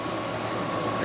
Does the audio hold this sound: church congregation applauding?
no